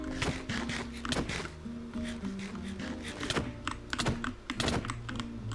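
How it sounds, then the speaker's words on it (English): Computer keyboard typing picked up by a gaming streamer's poor microphone, with a dense run of sharp, close key clicks and heavier thunks in an uneven rhythm over low background hum, with no talk. "do you guys hear my keyboard?"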